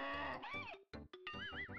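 A synthesized donkey bray from the SNES game Mario's Early Years: Preschool Fun, played glitched and warbling. It comes as a few short, wavering tonal bursts broken by brief gaps.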